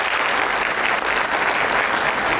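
Audience at an honour ceremony in India claps together, a dense, steady burst of applause that fills a couple of seconds with no voices on top.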